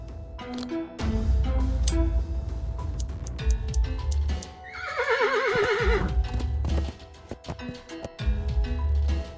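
A horse in a video game whinnies in a long, wavering neigh while its tail hairs are taken, amid hoof clip-clops and game background sounds; the neigh sits mid-clip, loud and close.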